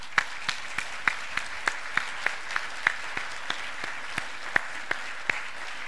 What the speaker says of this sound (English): would you give yourself a standing ovation for what you've done?